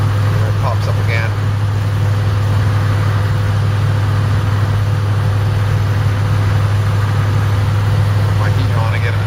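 An old truck engine idles nearby, a loud, steady low drone with an even hum that holds unchanged from start to finish.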